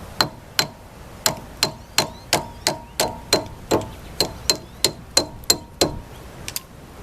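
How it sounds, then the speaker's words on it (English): A rubber hammer taps on a metal hubcap of a parade float wheel in a steady series of about twenty sharp knocks, each with a brief ringing decay. "Now I should drop my rubber hammer down here"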